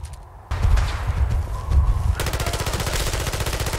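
Rapid gunfire in the video game Fallout 4 striking the player: a short loud burst followed by a dense, fast, evenly spaced stream of shots filling the last half of the moment, close and alone.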